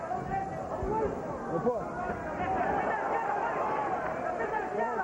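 Boxing arena crowd at a Julio Cesar Chavez fight, a dense roar of voices rising into a rhythmic chant of the fighter's name, steady and loud throughout with a brief swell near the middle.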